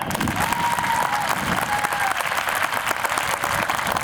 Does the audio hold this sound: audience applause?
yes